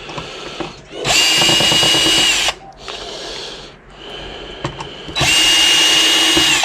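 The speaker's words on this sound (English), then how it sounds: "The thing I don't like about this drill is it doesn't have 2-speed." A cordless drill running at a single slow speed backs screws out of a large TV, whirring in three long bursts separated by brief pauses, loud and close, with clicks and handling noise between runs.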